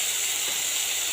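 Tomato and onion sauté with salt in a hot pan, giving off a dense, steady hiss of sizzling that stays loud and unbroken throughout the short moment.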